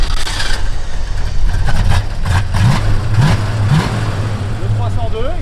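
A Ford Mustang's 302 V8 rumbles at idle, with low engine throb running steadily throughout and a few rising revs partway through, while a person talks over it.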